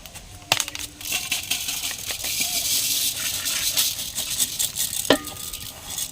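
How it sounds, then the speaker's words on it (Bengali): Marinated rice frying in hot ghee with bay leaves for pulao, a steady sizzle with scraping and stirring clinks, a sharp knock near the start and another near the end. "চালের মধ্যে যে জলটা ছিল ঘিয়ের সাথে ভেজে নেব"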